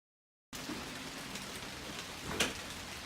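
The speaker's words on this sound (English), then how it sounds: "It's raining." Steady rain falls in the dark outside a Walmart, a continuous close patter of drops on surfaces beginning abruptly after a short silence, with one slightly louder splash near the end.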